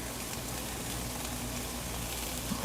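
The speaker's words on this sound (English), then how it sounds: "Time for me to crumble my beef into the frying pan." Steady, dense sizzling and crackling of a pound of lean ground beef frying in a hot pan, continuous and fairly close, with no talking.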